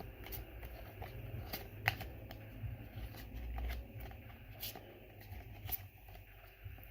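A stiff new tarot deck is shuffled, with soft papery riffling and occasional sharper snaps, faint and close, over low background rumble.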